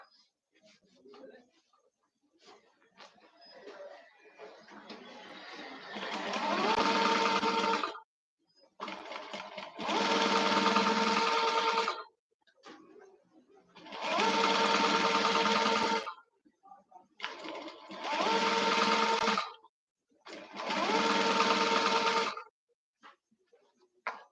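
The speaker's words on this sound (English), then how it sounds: "Then we are going to stitch around this edge to form a kind of shape." A sewing machine stitches around the edge of a full-round-cover Fila-style cap in five loud runs of a few seconds each, separated by pauses, with faint rustling between runs and no speech.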